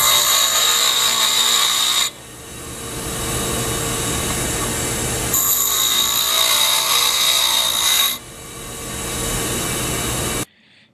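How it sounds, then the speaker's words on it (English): A bench grinder wheel is dressed with a flat diamond-covered dressing tool, giving a loud, steady grinding whine with a bright high ring that drops back to the motor's hum at about two seconds and again near eight seconds, with no talking. "Before beginning to grind, we will dress the wheel. To do this, we will use the dressing tool."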